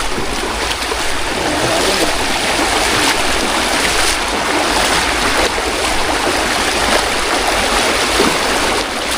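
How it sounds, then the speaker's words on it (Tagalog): Rushing water from a waterfall pours steadily and loudly, a dense broadband roar of current that holds constant throughout with no talking. "Ganda po ng agos, oh."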